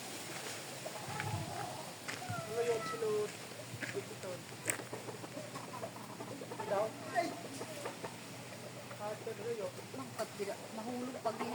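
Chickens cluck and cackle in a farmyard setting, faint intermittent calls scattered under nearby conversation and background noise.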